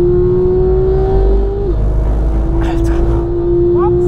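A car engine hums and accelerates steadily on the road, a loud continuous drone with a brief shift in pitch partway through, heard from inside the moving car without speech over it.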